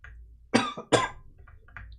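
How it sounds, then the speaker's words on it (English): A person coughs twice in close succession, loud and near, then clears the throat softly a couple of times in an otherwise quiet room. "I do apologize a lot for all the coughing"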